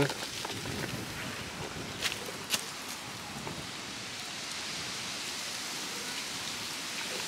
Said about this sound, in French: il commence à pas mal pleuvoir